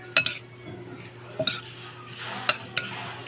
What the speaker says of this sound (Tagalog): Haluin na ito.